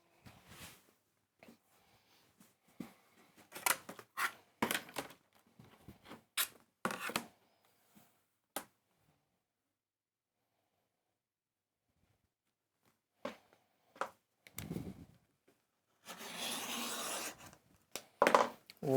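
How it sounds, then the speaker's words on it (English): Fabric being cut lengthways for a quilt block: intermittent close scraping and rubbing strokes, a quiet pause, then a few more cuts and a longer, sustained rasping pass near the end, with no talking. "I'm going to cut it lengthways"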